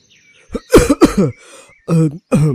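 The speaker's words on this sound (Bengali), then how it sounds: "ভদ্রমহিলা বেরিয়ে যেতেই বাইরে একটা কাশির শব্দ শুনতে পেলাম" A few coughs and throat-clearing sounds just outside a room in a Bengali detective audio drama: a close, dry double cough, a short pause, then two more harsh coughs.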